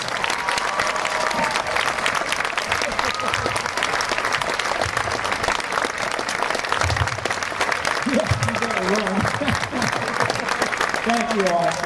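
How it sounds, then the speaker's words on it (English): An audience at a county marching band review gives a long, loud round of applause for a band figure, continuous dense clapping throughout, with a voice speaking over it toward the end. "Please give Mr. Gary Petricola a round of applause for all he does."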